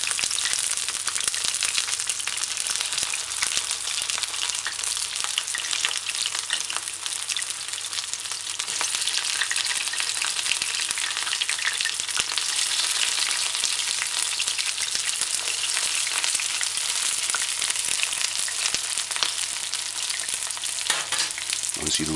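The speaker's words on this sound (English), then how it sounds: "allow to fry properly on one side before you flip it" Vegetable fritters frying in a pan of hot oil give a steady, dense sizzle with crackling pops, holding an even level throughout with no voices.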